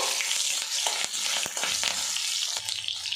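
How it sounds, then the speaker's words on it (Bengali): Dried red chillies, green chillies and half a spoon of five-spice seeds hit hot oil, giving a steady, close crackling sizzle with a few sharp pops and stirring clinks; no one speaks. "তেলটা ভালো করে গরম করে নিয়েছি এর মধ্যে দিয়ে দেবো শুকো লঙ্কা দিয়ে দেবো কাঁচা লঙ্কা আর দিয়ে দেবো হাফ চামচ পরিমাণে পাঁচ ফোড়ন"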